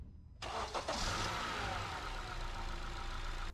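A car engine cranks and starts, then settles into a steady idle that carries on to the end, loud and close, with no talk over it.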